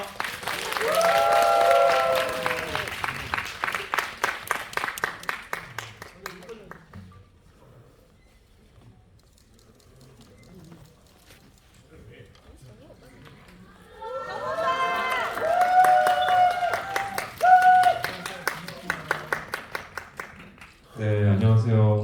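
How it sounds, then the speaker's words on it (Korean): Applause and cheering voices from a cinema audience at a film premiere stage greeting swell up, fade almost to quiet, then build again loudly toward the end. "큰 박수 부탁드립니다."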